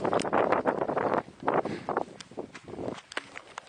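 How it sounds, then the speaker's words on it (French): Strong wind buffets the microphone on a mountain, loud rumbling gusts rising and falling in bursts with brief lulls, close and unsteady throughout. "je vais foutre le camp au vent. C'est incroyable parce que ça souffle"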